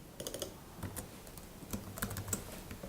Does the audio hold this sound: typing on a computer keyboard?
yes